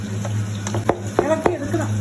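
In a home kitchen, a spoon stirs a sizzling pan of cumin, curry leaves and green chilies for a fish and tapioca dish, giving several sharp scraping clinks over a steady frying hiss.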